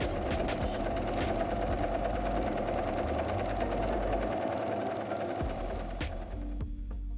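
A sewing machine runs a steady zigzag stitch along the seam edges of a puff sleeve wrap dress, a continuous close mechanical whir with a dense rapid rhythm that holds for several seconds before slowing near the end.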